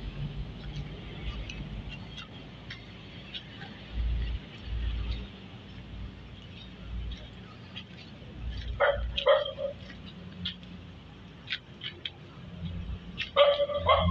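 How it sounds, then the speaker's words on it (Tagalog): A pitbull barks and yips in short bursts at a moderate distance over steady road and engine rumble, with quieter gaps between the bursts. "Tara na, galit yung aso."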